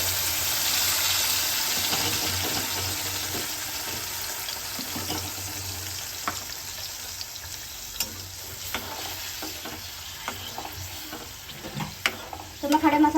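Ground masala for kadhai chicken frying hard in a kadhai, a loud continuous hiss of sizzling oil with occasional scrapes of stirring toward the end, close up and without speech.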